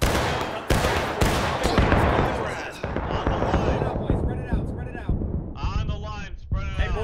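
Musket volley fire on a crowded War of Rights battlefield with a Union line, sharp loud cracks and ragged bursts of shots mixed with shouted voices of players calling orders over the gunfire.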